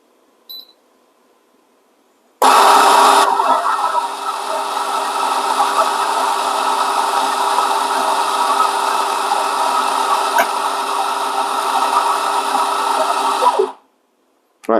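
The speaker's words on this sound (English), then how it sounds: "let's try to grind some coffee again" Coffee beans ground in a Quick Mill Super Quick 0650 setup, a loud continuous whirring grind starting abruptly and running steadily for about eleven seconds before cutting off.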